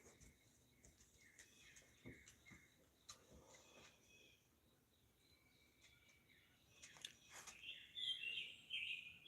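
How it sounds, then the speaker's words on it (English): Faint birds chirping and calling outdoors by Bull Shoals Lake, scattered tweets with a few brighter song bursts toward the end, distant and quiet. "Listening to the birds."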